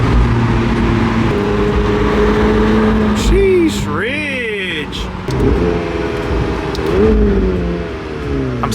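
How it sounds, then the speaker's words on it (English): A McLaren 720S engine revs from the driver's seat, its note climbing and falling in several sharp blips over a constant loud cabin drone, close and powerful. "I'm in a freaking McLaren 720S and we can't go fast. Sounds so good though."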